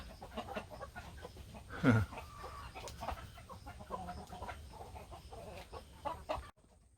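Cheonggye, Ogolgye and native Korean chickens peck at a halved native Joseon pumpkin, clucking softly and steadily in a loose group, with one louder call standing out early amid the flock's busy farmyard chatter.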